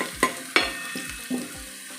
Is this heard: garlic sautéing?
yes